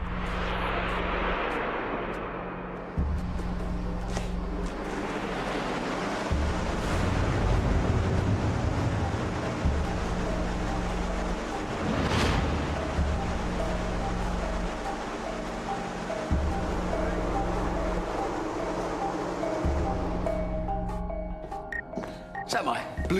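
A fan blows simulated wind across a bridge cable model fitted with a string helical strake, a loud steady roar that starts and stops with a person talking throughout.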